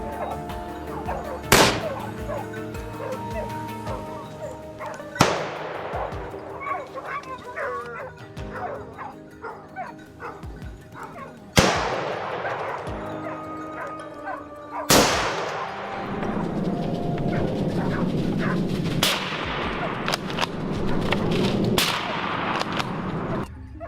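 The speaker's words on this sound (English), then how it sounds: "From other ambush points nearby, gunshots echoed in succession" Gunshots from a wild boar hunt crack sharply, one after another with long echoing tails, amid the barking and whimpering of dogs.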